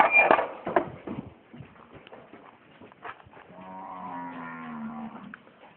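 Faint knocks and shuffling give way to a long, groaning donkey bray from a nearby tethered donkey, rising and sustained for a couple of seconds.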